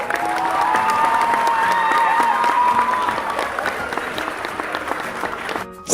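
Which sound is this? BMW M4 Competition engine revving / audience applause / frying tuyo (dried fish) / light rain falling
audience applause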